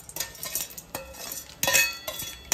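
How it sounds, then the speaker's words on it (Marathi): Roasted chana dal fried in a pan for cornflakes chivda, heard as scattered metallic clinks and scrapes of a utensil against the pan with a light sizzle underneath, close and fairly faint. "आपण हे डाळे पण तळून घेणार आहोत."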